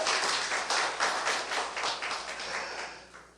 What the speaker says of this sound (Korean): 우리 눈치가 있으면 박수 한번 쳐줘요